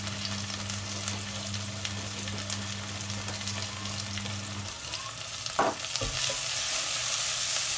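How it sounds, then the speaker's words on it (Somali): Chicken pancake filling with spices sizzles and fries in a pan, a steady crackling hiss with occasional stirring scrapes that grows louder toward the end, no voices. "intaas ayaan ku shiilayaa"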